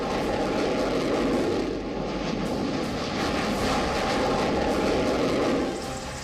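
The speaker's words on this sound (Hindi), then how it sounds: "फ्रांस से भारत को मिला लड़ाकू विमान रफाल हो" A Rafale fighter jet's engine gives a loud, steady roar that holds throughout, broad and rumbling, with a slight dip midway and a fade at the end.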